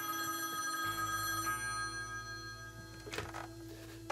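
A telephone rings steadily in The Quarry horror video game, its tone sustained through the clip, with a couple of short rattling bursts near the end and no voices.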